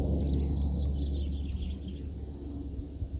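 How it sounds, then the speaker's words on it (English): Faint bird calls chirp through steady wind rumble on a quiet mountain in the Azores, a thin series of high notes in the first two seconds before fading into the breeze. "So calm up here, so silent. Just hear birds."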